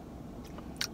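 Quiet close-up chewing of a sprinkle-covered donut with a few soft crunches, ending in a slightly sharper crunchy bite.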